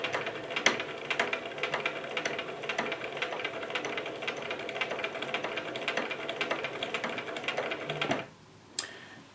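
A sewing machine stitching forward, a rapid, steady mechanical clatter of needle and gears running close up for about eight seconds, then stopping abruptly with a final click.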